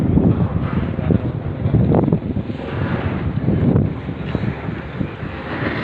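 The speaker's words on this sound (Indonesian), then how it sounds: "Angin masih kencang, masih mau goyang-goyang kapal juga tuh." Strong wind buffets the microphone at Patimban port, with a steady broadband roar and gusts rising and falling around a moored cargo ship loaded with heavy equipment, continuous and close throughout.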